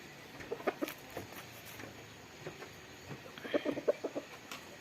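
A junglefowl rooster clucks in short bursts at moderate distance, with a second cluster of clucks near the end over quiet outdoor background noise.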